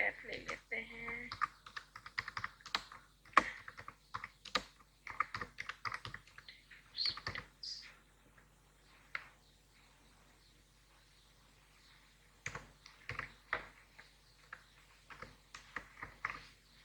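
Typing on a computer keyboard in bursts of quiet key clicks with pauses between runs, close up and faint, while someone talks over parts of it.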